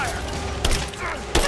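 Enemy gunfire in Rise of the Tomb Raider cracks out as two short, sharp shots about a second apart over a steady, busy game background.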